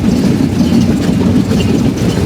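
Simanta Express night train from Khulna rolling into Chilahati station near the India–Bangladesh border, a loud, continuous rumble with rhythmic clickety-clack of wheels on rail joints, heard from on board with no voices.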